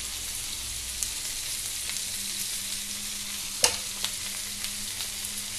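Chicken tikka kebabs marinated in ghee fry in olive oil in a pan, a quiet, steady sizzle with a few soft clicks and one sharper knock, heard close with no voices.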